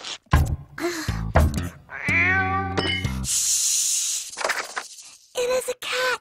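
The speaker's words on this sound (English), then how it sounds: "It is a cat." A cat meows several times in short, loud, close calls with brief gaps between them, alone with no talk.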